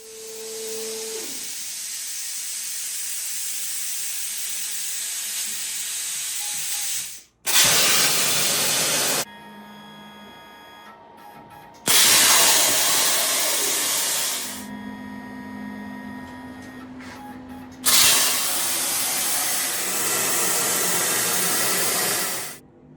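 Steel parts being cut for a homemade forwarder's steering joint, with loud, hissing bursts of grinding or cutting lasting several seconds each, separated by short quieter gaps in a workshop.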